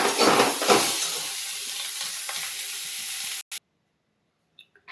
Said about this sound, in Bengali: এবার দিয়ে দেবো কিছুটা ধনেপাতা কুচি। ভালো করে নাড়িয়ে দেব।